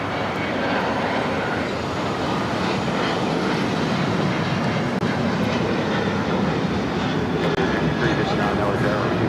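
A heavy airliner takes off from runway 25 right at LAX, its engines making a loud, steady broadband roar that holds without a break throughout.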